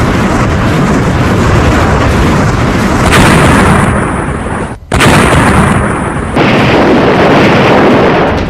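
Bomb blasts in the war in Ukraine: loud, dense rumbling roars fill the air almost without pause, swelling at intervals, with a brief cut to silence midway and no talk.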